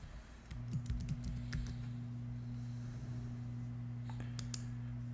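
Quick keystrokes on a computer keyboard tap out in scattered bursts over a steady low electrical hum, close and quiet, with a longer pause before a few final clicks.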